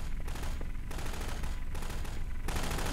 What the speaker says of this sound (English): What are you shooting at, man?